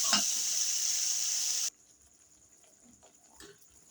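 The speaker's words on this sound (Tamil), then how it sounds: "இன்னும் கொஞ்சம் வதங்கட்டும்." Tomato pickle sizzling loudly as it sautés in oil in a pan, a steady hiss that cuts off abruptly after about a second and a half, leaving only faint clinks and quiet kitchen noise.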